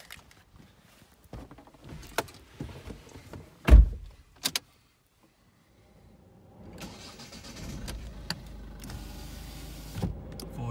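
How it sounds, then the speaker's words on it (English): Electric windows on a Mazda5 1.6d whir up and down close by inside the car, with thuds and clicks between runs and a low motor hum building toward the end. "Electric windows, electric door mirrors."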